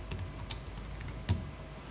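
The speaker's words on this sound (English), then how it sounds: "when I start typing" Rapid, light clicking of keys being typed on a computer keyboard, with one slightly louder keystroke near the end, close and steady with no talking.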